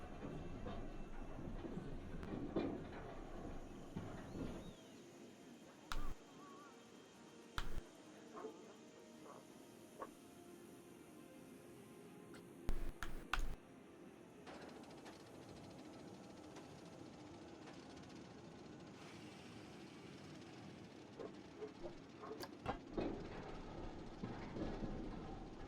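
A roller coaster train runs in the video game Planet Coaster, a quiet continuous rumbling track noise with rattling and occasional sharp clicks, steady throughout with no talking.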